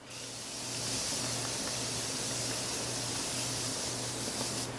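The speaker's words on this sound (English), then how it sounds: "at work I am constantly spraying this stuff all over my face. This is the Beauty Bakery baking spray." Beauty Bakery baking setting spray misted onto a face, a close, steady hiss lasting several seconds and trailing off at the end.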